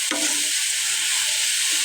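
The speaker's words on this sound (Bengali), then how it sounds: "আমি ভালোভাবে নেড়ে নিচ্ছি। যতক্ষণ না ব্রাউন কালার আসবে ততক্ষণ এটা ভেজে নেব।" Onions stirred and frying on low heat in a pan, a steady close sizzle with a brief scrape of the spoon near the start.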